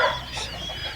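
A hen on a farm gives a brief nearby cluck, a short bright call over faint background noise, heard alone without talk.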